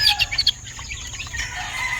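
Close clucks and short crowing calls come from a yard of SBR gamefowl, chicken and rooster sounds overlapping with chirps from other birds on a steady outdoor background. No one speaks.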